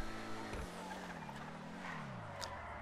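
A police car in GTA Online braking hard, a faint tonal tire squeal that rises and wavers over a low engine drone, with a brief knock at the start.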